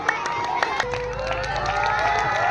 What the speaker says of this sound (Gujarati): આપણે સૌ તાળીઓના ગડગડાટથી આજના આ ઓપનિંગ કાર્યક્રમને વધાવી લઈશું